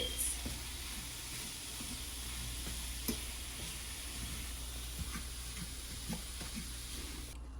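Smashed tofu scramble being stirred in a hot pan on a stovetop with the heat switched off, giving a steady close sizzle and hiss broken by light scraping stir clicks, with no talking.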